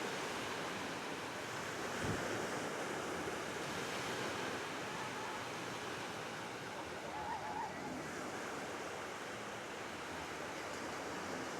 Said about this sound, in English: There's just something so peaceful about the sound of the ocean crashing.